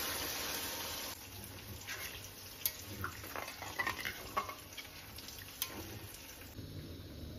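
Water is poured onto spiced potatoes frying in oil in a pot, giving a soft hiss and bubbling sizzle with faint stirring sounds, quiet and close, with no talk.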